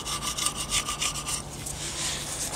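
Steady rhythmic scraping strokes across a Moto Guzzi gasket surface to take down high spots, close and dry, with a rasping back-and-forth cadence and no talk.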